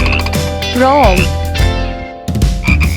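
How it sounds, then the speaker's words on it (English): A frog croaks in a children's alphabet song, with croaking calls mixed into steady music and a sung voice, loud and close. "Frog."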